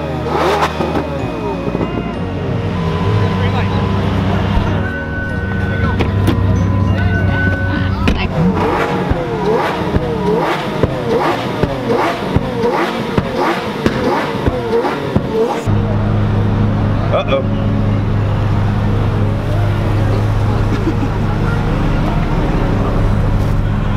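A Toyota Supra driving at night among a crew of other cars, engines droning and revving steadily up close with passing traffic, while people talk over the engine noise.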